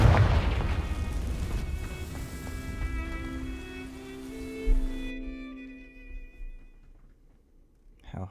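A Confringo fire spell explodes in Hogwarts Legacy, setting dry vines alight: a loud rumbling boom that fades over several seconds with ringing tonal tails, then a few softer thuds and a sudden drop to near silence.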